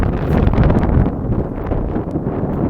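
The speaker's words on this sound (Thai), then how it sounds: "ทะเลปั่นป่วนมากเลยครับ ลมแรงก็ คงจะทำให้ระบบเสียงไม่ดีเท่าไหร่เนาะ" Strong wind buffets the microphone beside a rough, churning sea under rainy, overcast skies, a loud continuous roar with gusting rumble and no break throughout.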